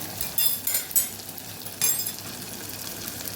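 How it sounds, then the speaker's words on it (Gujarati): Garlic chutney sautés in hot oil in a pan for a Kathiyawadi black-eyed pea and potato curry, a soft steady sizzle broken by a few sharp scraping stirs and clinks of a spoon. "હવે આપણે લસણવાળી ચટણી ઉમેરી અને સાતળી લેવાની છે"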